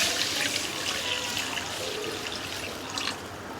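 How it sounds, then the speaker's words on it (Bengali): Water pours into a wok for a sugar syrup, a steady broadband splash and trickle that runs close and continuous, easing slightly near the end, with no talking. "কড়াইয়ের মধ্যে দিয়ে দেব জল।"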